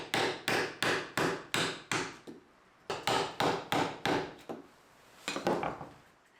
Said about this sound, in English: Then I would use my chisels and a Dremel to clean it up.